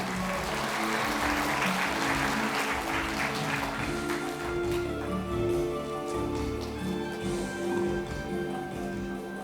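An audience at a sports association event applauds steadily, soft clapping like pattering rain under a background hum, with faint voices murmuring.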